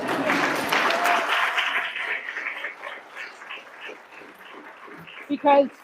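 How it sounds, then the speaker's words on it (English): Audience applause at a public safety ceremonial bill signing, starting fairly loud and tapering off as the clapping thins, with a few louder sounds near the end. "You're allowed to clap on that."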